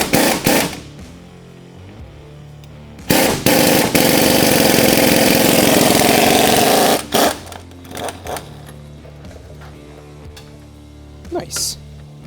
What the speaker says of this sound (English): we're using an air gun to make it easy